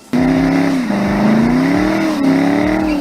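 A 426-horsepower Chevrolet Camaro weighing 3,700 pounds fires up and revs loudly up close, its engine note rising and dipping through several throttle blips over three seconds.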